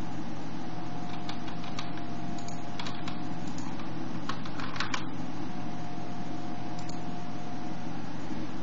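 Typing on a computer keyboard, scattered clusters of soft key clicks over a constant electrical hum, fairly close and quiet, with no talking.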